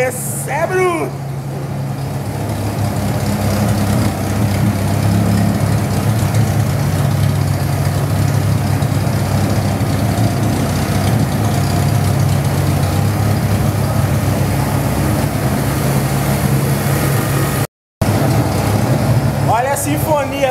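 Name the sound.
Chevrolet Opala engine idling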